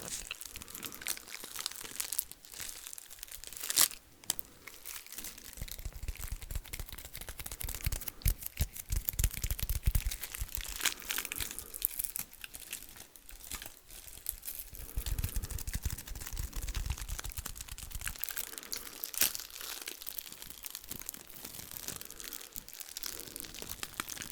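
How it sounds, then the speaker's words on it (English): Light crinkly item gently crinkled close to a mic at full sensitivity, soft irregular crackling and rustling in bursts over a quiet background. "it's a good thing we have a very light crinkle item."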